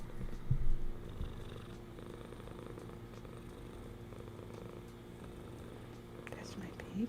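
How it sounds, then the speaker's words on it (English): A cat purrs softly and steadily up close, a low continuous rumble, with a brief murmur of voice near the start. "can you hear her purring?"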